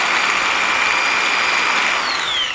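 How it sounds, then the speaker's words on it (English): A power drill bores into wood while building an ultralight trout swimbait, a loud steady whine held close and alone for the whole stretch, its pitch sliding down slightly near the end. "I'm so scared to drill into this wood, but it's going to have to be done."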